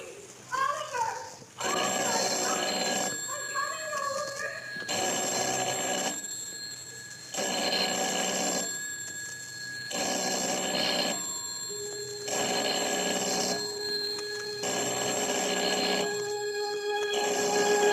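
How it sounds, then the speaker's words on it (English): A telephone bell rings in repeated bursts with short silent gaps, loud and close, sounding through an otherwise quiet room. "A telephone ringing in an empty house."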